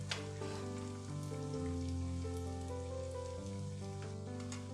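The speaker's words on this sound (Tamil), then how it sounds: "ஸோ நம்ம வந்து கொஞ்சம் கொஞ்சமாக போட்டு ஃப்ரை பண்ணி எடுத்துக்கலாம்." Sweet potato cutlets deep frying in hot oil, a crispy bakery-style snack, giving a steady dense sizzle and bubbling that stays loud and even throughout, with no voices.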